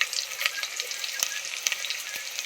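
Onion, garlic and tomato frying in hot oil while being stirred, a dense, steady sizzle with occasional sharp pops and spoon scrapes, close and moderately loud, no talking.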